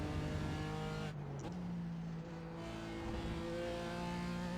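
A GT4 race car engine in the iRacing sim at Laguna Seca, a steady high-pitched whining tone that drops briefly at a gear shift, then settles and holds, quiet and alone without talk.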